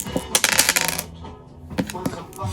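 Dice rattle and clatter onto a hard surface in a fast, bright burst of clicks, followed by a brief pause and a second shorter tumble, close and fairly loud.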